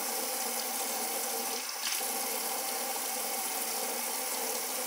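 Steady running water from a tap wetting dreadlocked hair before retwisting, a continuous close hiss with no talk.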